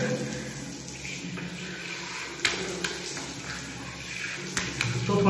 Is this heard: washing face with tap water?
yes